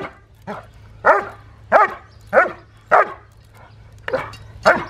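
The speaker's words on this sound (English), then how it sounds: "Now, where's he barking?" A young German Shepherd barks in a steady series of about eight sharp, loud barks, close by over a low background hum.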